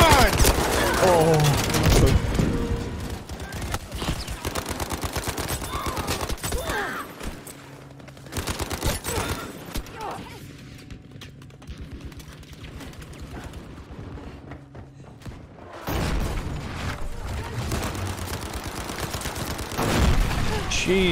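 Shotgun blasts from a first-person shooter set in Battlefield 5, loud booming shots in bursts, with a quieter stretch mid-way before heavy firing resumes; a voice talks over parts of it.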